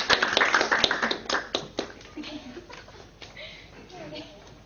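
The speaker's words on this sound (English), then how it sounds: "ask everyone to join me in another round of applause" At a business training event, a small audience claps in a brief burst of distinct hand claps that quickly thins out, followed by quieter room sounds and light voices.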